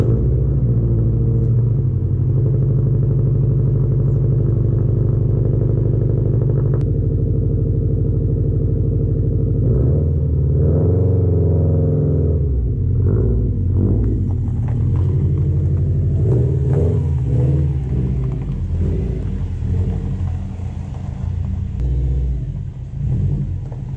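Subaru STi engine running loud and close throughout, a steady low rumble with rising revs and some clatter as the car is driven forward and eased into position.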